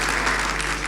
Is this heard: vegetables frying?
no